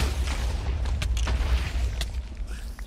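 Explosions in Minecraft set off with gunpowder give a few heavy booms in quick succession, loud and close, with sharp cracks riding over a rumbling low end.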